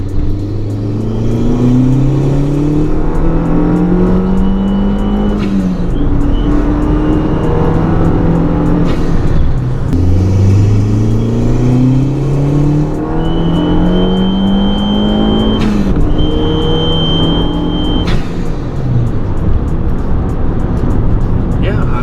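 An Abarth car drives on a test drive, its engine rising in pitch through repeated accelerations and gear changes, loud and close from inside the cabin, with a person talking over it.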